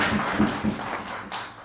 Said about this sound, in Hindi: एक पर्स के लिए भी जोरदार तालियां